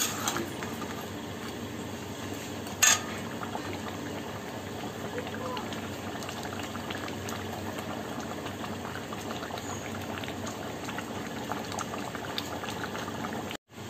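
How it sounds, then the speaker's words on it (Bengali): Crab curry bubbles at a steady boil in a pot after garam masala is stirred in. The continuous simmering burble stays close, with one sharp knock near the start. "এবার গরম মশলাটা দিয়ে একটু ফুটিয়ে নামিয়ে দেবে।"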